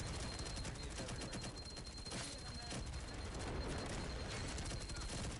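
Rapid gunfire from a competitive video game match in a pro league semi-final, bursts of shots crackling continuously over a busy, loud mix with commentator talk underneath.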